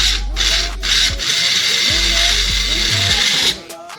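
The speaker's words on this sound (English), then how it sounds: "So we put it in our little bullet blender." A small bullet blender pulses old-fashioned oats for pancake batter, its motor whirring loudly in short bursts that stop and restart before cutting off near the end.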